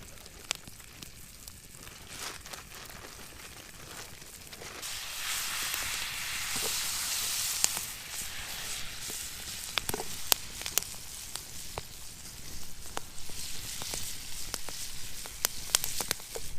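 Olive oil sizzles in a pan over a campfire in the snowy Colorado wilderness, a steady soft hiss that swells in the middle, with scattered pops and crackles throughout.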